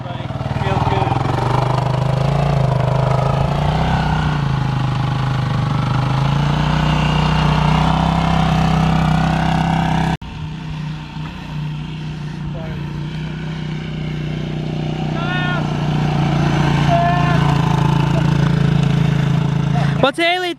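Engine of a new 2021 Yamaha YFZ 450R ATV running steadily while coasting in first gear, a continuous loud mid-pitched drone that dips briefly midway, with people talking over it.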